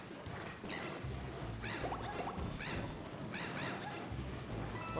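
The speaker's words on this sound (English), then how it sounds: "Sorry if you can hear the neighbor's dog." A neighbor's dog barks and yips in short repeated bursts, a few spaced outbursts heard at moderate distance over a constant low background hum.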